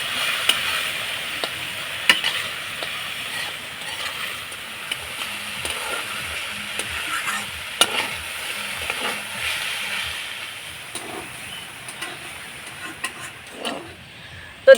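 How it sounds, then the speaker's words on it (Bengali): Diced potatoes with beans, salt and turmeric frying in a pan while being stirred, a soft continuous sizzle punctuated by scraping and clinking spatula strokes, fairly close, with no talking. "একটু নাড়াচাড়া করে আমি আলুটাকে ভাজা ভাজা করে নেব।"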